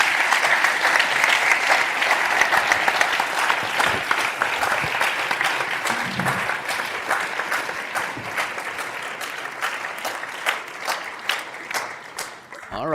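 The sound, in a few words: audience applause at a roundtable event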